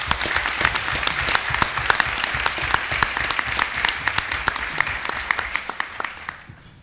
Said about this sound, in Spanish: Recibamos con un aplauso también a Luis Carrera.